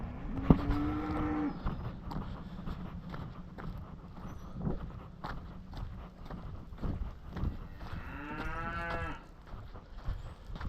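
Cattle moo on a ranch, two long calls a few seconds apart, with clip-clopping and rustling outdoor noise between them.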